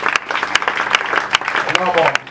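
Church congregation applauding during a sermon, a thin patter of claps running beneath a preacher's loud speaking voice.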